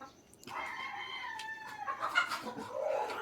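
Chickens cluck and a rooster crows close by in a short burst of farmyard calls, with no talking.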